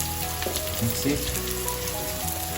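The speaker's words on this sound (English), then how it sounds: "Saute your vegetable until getting brown." Vegetables sauté in a pan while pumpkin gnocchi is made, giving a steady, close, dense sizzle with faint clinks and stirring noises on top.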